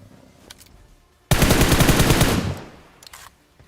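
A single rapid burst of automatic gunfire in a battle royale video game lasts about a second, loud and close, then cuts to quiet, with faint scattered shots before and after it.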